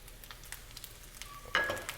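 Bacon fat with chunks of walnut and celery sizzles faintly in a pan as it is stirred, a soft, steady frying crackle with a brighter scrape near the end.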